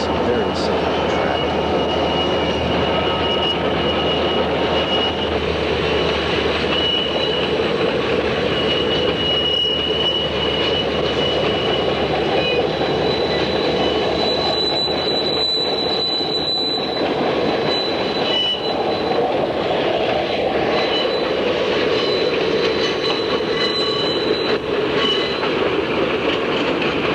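SP 4449, a GS-4 Daylight steam locomotive returning from Railfair 1981, leads its train around the Horseshoe Curve. Steady loud rolling rumble with wheel squeal on the curve runs throughout, and a voice speaks over it.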